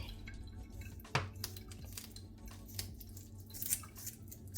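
Kitchen scissors snip through raw chicken wings with a few sharp, close clicks and cuts, plus wet squishy drips from the meat in between.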